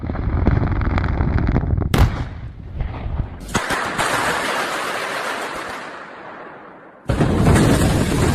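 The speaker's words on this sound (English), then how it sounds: "Thunderous blasts echo as debris flies through the air" Thunderous explosion blasts with debris flying, heavy booming bursts followed by a long rumbling, crackling roar that fades, then another sharp loud blast at the end, no speech.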